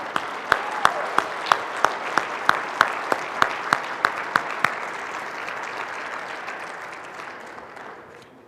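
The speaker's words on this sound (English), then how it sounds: "Let's give them a round of applause." Conference audience at the 2022 CTA Equity & Human Rights Conference gives a sustained round of applause, a dense steady wash with one person clapping loudly and rhythmically nearby before it fades toward the end.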